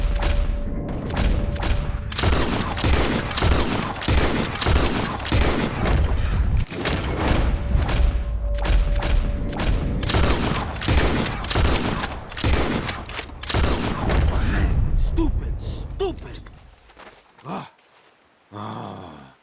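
Revolver and carbine shots ring out in Red Dead Redemption 2 as players fire at birds flying overhead, a dense, loud barrage of overlapping gunfire that ends in a brief pause and a final shot.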